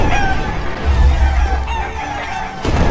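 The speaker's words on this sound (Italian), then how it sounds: "Quante galline!" Chickens cluck and crow in the video game Blow the Hen Down, a short run of fowl calls over a low game background, without speech.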